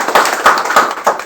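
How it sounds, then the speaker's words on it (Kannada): Applause for an honoree at a 70th-year Kannada celebration comes as loud, close, rhythmic bursts of hand clapping, roughly four strong beats within a second. "ಹಾಗೆ ಅವ್ರಿಗೊಂದು ದೊಡ್ಡ ಚಪ್ಪಾಳೆ ಬರ್ತದೆ"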